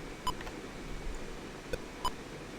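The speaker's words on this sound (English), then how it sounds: "you've just got very minor beeps that are going on" A few short, high electronic beeps from the arcade game Breakout ring out at uneven intervals over a low, steady background hum.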